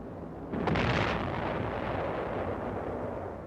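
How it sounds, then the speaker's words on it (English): Artillery barrage on the Iwo Jima beaches during the landings: a heavy blast bursts in after a brief lull, then rolls on as a dense, roaring rumble of continuous explosions that slowly fades, no voices. "From the ridges, a Jap barrage hampers unloading operations."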